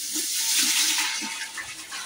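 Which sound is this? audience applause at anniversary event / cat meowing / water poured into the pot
water poured into the pot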